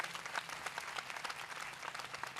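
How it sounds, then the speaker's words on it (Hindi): A church congregation claps vigorously during a Sunday worship meeting, a continuous, fairly distant wash of many hands with no talking over it. "आए जोरदार तालियां यीशु मसीह के लिए बजाएंगे।"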